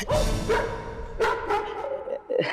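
A dog barks and yips in a few short bursts indoors, close and fairly loud, with soft whimpering between the barks.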